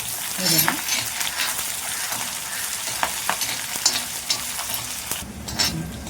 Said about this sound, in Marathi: हे सर्व साहित्य असं परतून घ्यायचं आहे